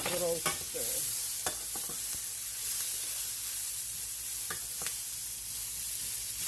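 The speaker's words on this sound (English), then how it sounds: "And give them a good old stir." Onions coated in mushroom seasoning fry on a grill, with a steady loud sizzle and hiss broken by a few sharp scraping clicks from stirring, close up and without talk.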